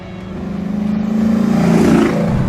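A 1972 Chevrolet Nova engine running while driving, a loud, throbbing low rumble heard from inside the car that swells steadily as the engine pulls, then eases slightly, with no talk.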